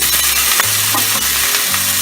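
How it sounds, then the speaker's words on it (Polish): Chicken skewers sizzle loudly in a pan over high heat, a dense crackling hiss with a low hum underneath. "jak ja smażę, to na taki dużym ogniu"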